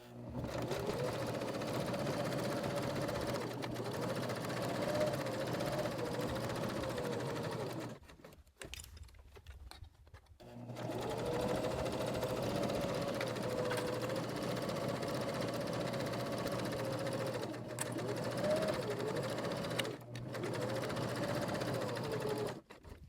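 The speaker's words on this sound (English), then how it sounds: "When I get to the corner, I'm going to put my needle down, I'm going to lift my presser foot, rotate my project" A sewing machine stitches a journal cover at close range with a steady, even whirring hum, pausing for about two seconds partway through when the work is turned at a corner, then running on continuously.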